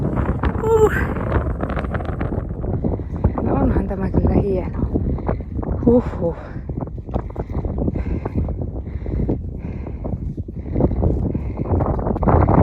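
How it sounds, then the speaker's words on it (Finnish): Strong wind on a high fell in Finnish Lapland roars and buffets the microphone continuously while someone talks over it. "Mutta täällä tuulee ihan hyvä meininki."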